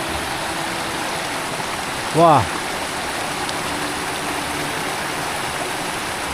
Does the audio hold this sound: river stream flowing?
yes